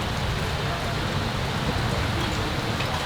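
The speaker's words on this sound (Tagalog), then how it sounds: "Lakas na ng ulan." Heavy rain pours down in a dense, steady hiss, constant and loud throughout with no pauses.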